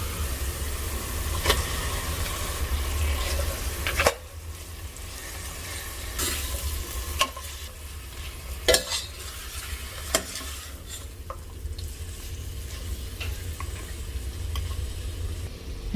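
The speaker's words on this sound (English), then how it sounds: "Let's add this mutton." Mutton pieces fry in a hot pan with spices, salt, chili powder, coriander powder, ginger garlic paste and turmeric, giving a continuous close sizzle broken by several sharp scrapes and clanks of stirring, with no talking.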